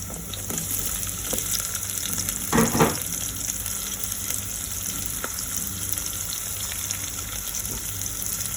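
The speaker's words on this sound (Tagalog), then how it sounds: "Lagyan na natin itong sibuyas." Onions frying in a pan, stirred with a metal spoon: a constant crackling sizzle with one louder scrape-and-clatter burst midway and occasional light clicks, close and without voices.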